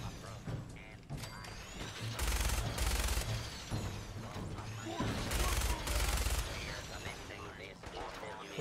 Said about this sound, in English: They weren't expecting a defensive minigun.